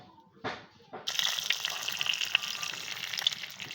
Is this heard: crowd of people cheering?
no